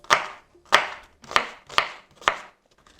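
A knife chops red onions on a cutting board for a lentil-based vegan bolognese, making five crisp, evenly spaced thuds close up with short pauses between them and no talking.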